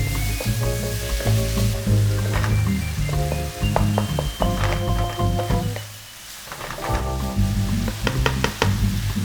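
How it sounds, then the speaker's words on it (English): Onions frying in olive oil over high heat for kimchi fried rice, a loud continuous sizzle and crackle with repeated clinks and scrapes of stirring, briefly quieter midway. "Add olive oil and dump the onions. Give it a nice stir under high heat"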